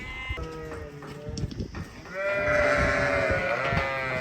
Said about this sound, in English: We've got a group of lambs that are desperate for their ewes back.